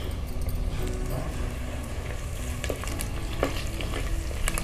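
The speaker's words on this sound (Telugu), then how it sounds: "కరివేపాకు వేస్తున్నానండి." Curry leaves crackling in hot oil with onion and green chillies in a pan, a dense continuous sizzle up close with occasional light clatter of a spoon.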